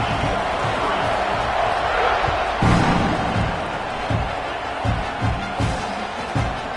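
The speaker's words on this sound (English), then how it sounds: "this crowd now ready to get behind them" Stadium crowd at a college football game at Oklahoma, a broad steady roar with scattered cheers and a few sharp thuds, with a commentator talking over it.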